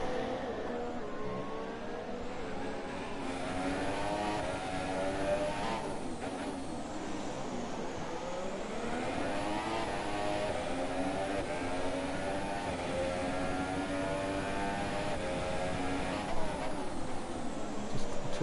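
Onboard engine of a race car on a flying lap around the Singapore street circuit in a sim racing game, a continuous high-pitched whine rising and falling through gear changes and corners.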